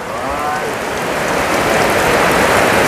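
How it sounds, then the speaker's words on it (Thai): Steady rain pours down, a dense continuous hiss of drops striking a surface, loud and unbroken throughout. "ยุติก่อนเนาะในการเหตุเรือนน้องมูมื้อนี้พี่น้อง เพราะว่าฝนตก"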